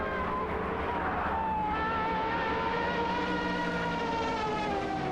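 Racing game engines from an Aston Martin AMR1 and a Porsche 962C Longtail drone steadily in a continuous high whine with a slowly rising pitch, sustained with no breaks.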